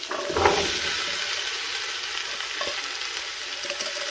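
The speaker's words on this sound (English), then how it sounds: "Give them a good stir in. Get them coated in that rapeseed oil." Chopped carrots and onions sizzle in hot rapeseed oil in a pan, a dense close hiss with a stirring scrape near the start, steady throughout and without speech.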